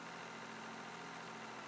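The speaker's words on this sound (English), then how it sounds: "I swear, that tractor, it is so loud." Tractor engine idling in Farming Simulator 22, a steady loud droning rumble with a faint mechanical hum running continuously and unchanging, no voices over it.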